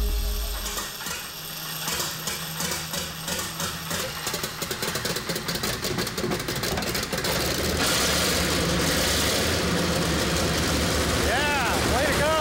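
An M18 Hellcat tank destroyer's replacement engine cranks and fires up, settling into a loud, rapid, rough running rumble up close, with people talking over it.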